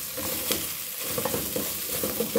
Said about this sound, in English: I'm trying to dry this meat.